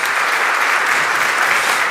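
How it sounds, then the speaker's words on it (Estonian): A church congregation applauds at a Christmas Eve service, a dense, steady burst of clapping from many hands filling the room. "teeme neile veel korra ühe aplausi."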